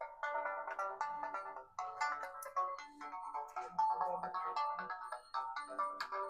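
A Realme 5i smartphone, just repaired for a faulty ringer, plays its melodic ringtone loud and clear in repeating musical phrases with no voices over it.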